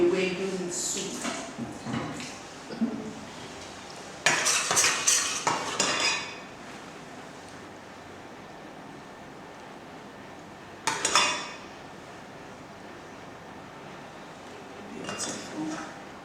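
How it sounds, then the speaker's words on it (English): A utensil scrapes and clinks against a pot and dishes while Ewedu soup is served, with bursts of metallic scraping in irregular clusters and quiet pauses between them. "And then I'm going to dish my Ewedu soup"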